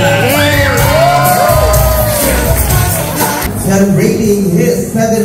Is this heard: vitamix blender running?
no